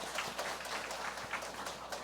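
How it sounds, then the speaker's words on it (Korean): Congregation applauding at a Sunday church worship service, a dense, steady wash of many hands clapping throughout, moderately distant with no speech over it. "박수로 격려하겠습니다."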